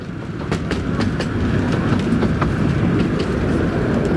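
A passenger train on the Romney, Hythe and Dymchurch Railway near Romney Sands rolls steadily along the rails, loud and close, with rhythmic clickety-clack wheel beats over a continuous rumble.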